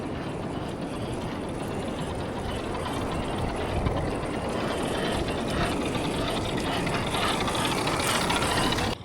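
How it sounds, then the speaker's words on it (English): Gear whine and rattling from the transmission of a Rlaarlo JK-07 RC jeep, a steady, loud mechanical grinding that runs throughout with no talk. "That transmission though, that's got some noise to it."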